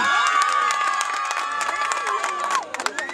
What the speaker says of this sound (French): C'est Élise Le Foulon et Louki Dardy que l'on applaudit.